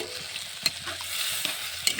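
Prawns cook in a pan as broth is added, making a soft, close sizzle broken by a few sharp clinks and scrapes of a spoon against the pan, with no talking.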